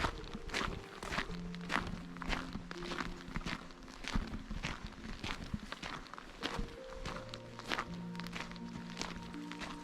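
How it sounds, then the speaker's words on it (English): Footsteps crunch steadily along a walking trail in Glenveagh National Park, County Donegal, in a quiet outdoor setting, with a regular close walking rhythm and faint tonal hum in the background. "all I hear is my footsteps."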